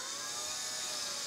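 A power drill bores pilot holes into a wall stud for blind mounting brackets, giving a steady, continuous high-pitched whir that holds close and even for the whole stretch, with no talking.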